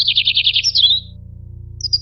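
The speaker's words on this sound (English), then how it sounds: "birds use sounds to talk to each other, warn of danger, or sing for fun" Birds sing and call in a quick run of rapid, high trilled chirps, then a short pause before a few more chirps. The calls sound loud and close over a low, steady hum.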